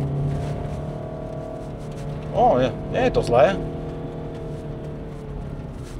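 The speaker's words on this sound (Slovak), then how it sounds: "čo počujete, je CVT, čiže tu nemám ani možnosť radenia tých prevodových stupňov" Car with a CVT transmission driving on a snowy mountain road, a steady low engine drone with a brief surge as it accelerates, under a man's short spoken remark.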